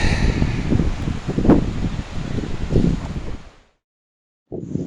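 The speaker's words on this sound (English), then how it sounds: "It's just crazy windy here right now" Strong wind buffets the microphone in heavy, rumbling gusts, then cuts to silence before the roar returns.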